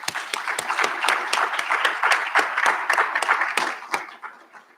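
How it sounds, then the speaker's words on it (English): A college graduation ceremony audience applauds steadily, individual sharp claps standing out within a dense crowd sound that tapers off toward the end. "Please join me once again in applauding them."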